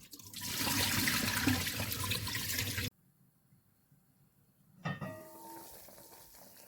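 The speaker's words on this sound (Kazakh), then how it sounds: "Төрт рет, 5 рет өстіп қайтарып жуып аламыз, суы тазарғанша." Rice being rinsed in water, washed repeatedly until the water runs clear, for a simple home rice dish: a steady splashing, swishing wash for about three seconds, then near silence and a brief clatter near the end.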